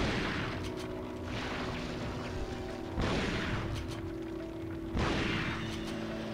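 Three heavy shotgun buckshot blasts from Resident Evil 4 land a couple of seconds apart, each a booming broadband thump fading slowly, over a faint droning game background.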